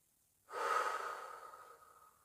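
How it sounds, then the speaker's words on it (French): A single slow exhalation through the mouth during a breathing exercise, a soft, close airy rush that starts abruptly and fades gradually over about two seconds in a quiet room. "Je suis bien présent dans ma respiration."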